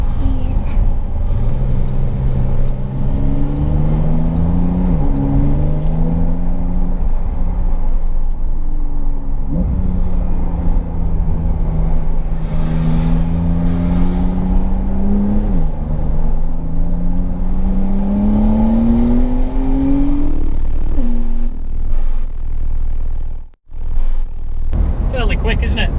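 A Porsche 911 of the 992 generation accelerates hard, its engine note climbing in repeated surges through several gear changes, loud and close from inside the cabin, with people talking over it.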